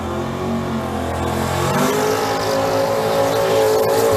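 Small block turbo Pro Modified drag race car launching at Mission Raceway, its engine droning loud and steady, then rising sharply in pitch as it pulls away down the track, sustained and close throughout.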